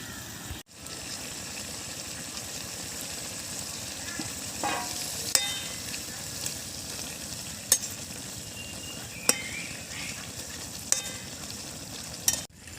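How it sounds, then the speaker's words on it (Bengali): Bata fish curry with eggplant and potato bubbles and sizzles steadily in a pot, a continuous close crackling simmer with a few sharp clicks and taps scattered through. "মাছটা দেওয়ার পরে খানিকক্ষণ ফোটানো হয়েছে"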